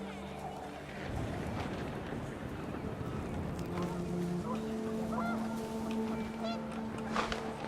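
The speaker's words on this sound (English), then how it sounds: "The wind picked up, and panicked geese appeared and quickly went." Panicked geese honk in What Remains of Edith Finch as wind picks up in the game, the calls rising over a breezy rush while a voice narrates on top.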